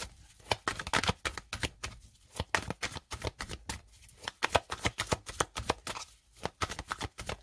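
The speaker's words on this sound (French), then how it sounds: "je bats un petit peu les cartes" Tarot cards being shuffled by hand, a rapid series of crisp riffling and slapping bursts, close and fairly quiet, with no talking.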